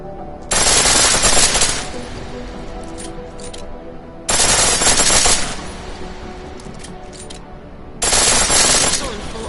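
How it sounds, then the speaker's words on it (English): Pistol in Deus Ex: Mankind Divided firing on full auto, three loud, dense bursts of about one and a half seconds each, separated by quieter gaps with faint clicks and background. "Pistol in full auto will take down targets fast, but it'll burn through your ammo."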